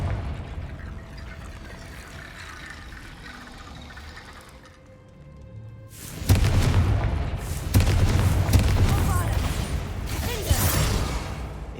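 The Confringo blasting spell going off in the Hogwarts Legacy video game, a sudden loud booming burst followed by crackling, rumbling debris and further blasts, after a quieter stretch of low ambient game tones.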